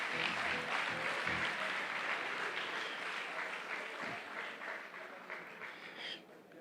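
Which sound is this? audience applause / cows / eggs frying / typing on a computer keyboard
audience applause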